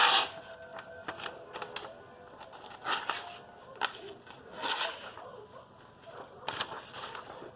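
A stainless steel blade slicing through printer paper, repeated short crisp rasping strokes at an irregular pace, close by and fairly quiet.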